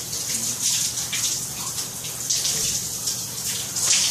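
Shower water runs steadily in an enclosure during a workout, a continuous close hiss of spray with faint low rumble beneath and no talk.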